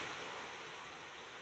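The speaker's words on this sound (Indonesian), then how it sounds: "Hujan kuat." Heavy rain pouring down, a dense, steady hiss of water filling the background evenly, faint and continuous with no voices.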